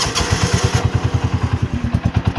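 A John Deere Gator engine cranks and catches, then runs at a steady idle with a rapid, even, throbbing pulse, loud and close with no voices.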